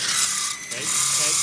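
A small impact wrench buzzes in a steady rapid hammering whir while removing a wheel bolt during a brake and wheel job, loud and close, with a voice faintly underneath.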